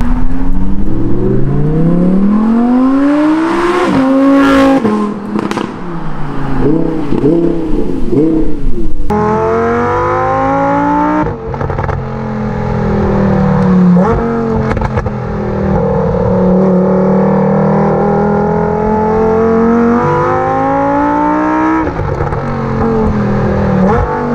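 A new Lamborghini's engine revs hard and accelerates, loud and close, with repeated rising pitch sweeps as it pulls through the gears, a sustained roar continuing throughout.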